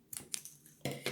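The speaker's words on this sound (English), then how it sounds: "I am going to just kind of trim the big one" Scissors trimming a craft piece for a triangle slinger, a few short close snips and rustles with quiet pauses between them.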